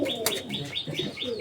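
Large pigeons kept in a loft coo in a repeated rhythmic pattern, several soft throaty calls in quick succession, close and clear, with no people talking.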